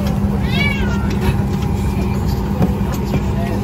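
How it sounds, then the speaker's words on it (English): A single cat meow rises briefly over a loud, steady engine rumble, like inside a moving vehicle. "Somebody just meowed."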